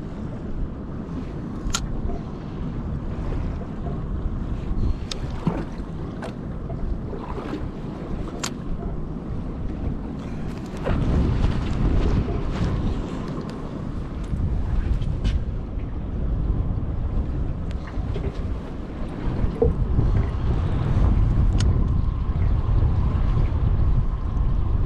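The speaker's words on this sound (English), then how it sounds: "Man, this wind is getting brutal." Strong offshore wind buffets a fishing boat, a steady roaring rush with gusts and wave wash against the hull; faint knocks and rattles come and go throughout, with no talking.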